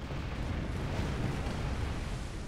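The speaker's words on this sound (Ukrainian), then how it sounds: "Ага, ми по супернику стріляємо." Pirate ship cannons firing at an enemy vessel in the Ukrainian game Tempest, a dense, rumbling boom and roar that stays steady and fairly distant, with no one speaking.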